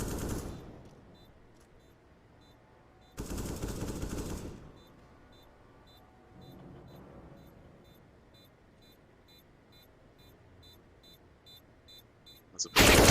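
Bursts of AK rifle fire in a Counter-Strike: Global Offensive match: one loud, sustained volley in the middle and another sharp burst at the end, with quieter shots and game noise in between under a commentator's voice.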